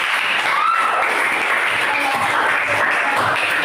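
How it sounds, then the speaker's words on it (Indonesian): A class group applauding together in a classroom, a steady wash of clapping hands lasting a few seconds, fairly loud and close. "Baik, kita beri aplaus untuk kita semua juga."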